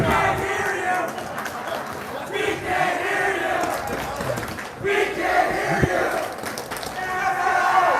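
Home fans cheer and yell for the Woodstock girls' basketball team during overtime against Trumbull, a steady wash of crowd noise filling the gym beneath an announcer's voice.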